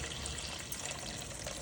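Measured water is poured into rice at a ratio of one to two, a soft, continuous splashing and trickle heard faintly and close up.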